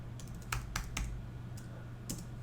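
Computer keyboard typing: a handful of quick, light key clicks in an irregular rhythm, close but quiet, over a low steady hum with no voices.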